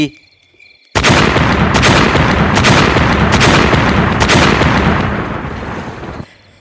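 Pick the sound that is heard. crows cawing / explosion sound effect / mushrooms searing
explosion sound effect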